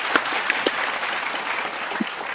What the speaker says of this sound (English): with a virtual round of applause.